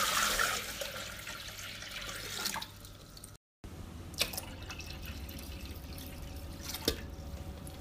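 Water is poured into a Thermomix bowl for a fish broth, about one and a half litres. It makes a faint, steady trickling and splashing that breaks off briefly, then continues with a few soft drips.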